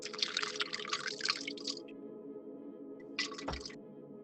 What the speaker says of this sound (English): Don't you love the sound of water slurping into a tablespoon?